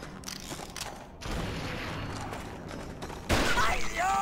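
Gunfire in the Red Dead Revolver video game, a few sharp shots and a louder blast near the end, with someone talking quietly between them.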